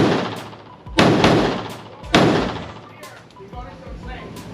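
Two loud gunshots about a second apart from a Glock 25 Gen 3 .380 ACP pistol, each a sharp crack with a ringing decay, followed by fainter thumps.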